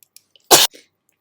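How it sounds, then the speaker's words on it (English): A single loud, sharp sneeze bursts out in a quiet room during a software lecture, followed by a brief softer exhale. "I had a sneeze that I paused the lecture for."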